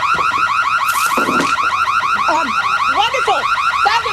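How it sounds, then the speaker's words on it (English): House security alarm going off, a loud continuous warbling electronic siren cycling rapidly up and down in pitch, close and steady throughout, with no speech over it. "The alarm will be triggered."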